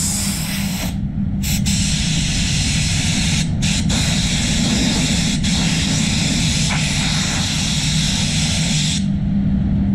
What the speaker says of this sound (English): Then I'll get the high pressure air blower and a tack rag, just to, as I say, make sure I remove as much of that potential dust.